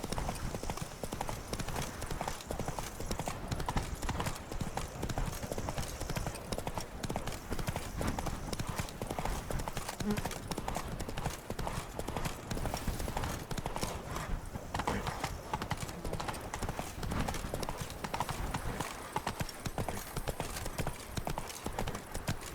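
Hooves of Roach, Geralt's horse in The Witcher 3: Blood and Wine, clip-clop steadily throughout with a brief whinny, under a dense game ambience with occasional voices.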